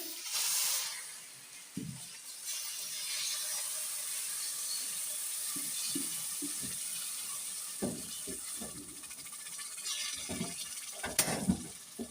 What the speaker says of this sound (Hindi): इस स्टेज पर आकर मैं इसमें पानी शामिल करूंगी